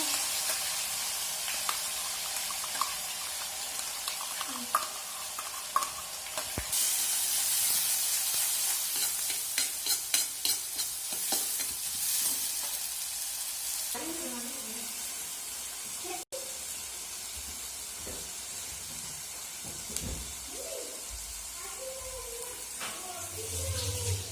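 Onion, garlic and garam masala fry in hot oil for a green egg curry, with a continuous sizzling hiss, bursts of spattering and scraping of a spoon stirring the pan, close up.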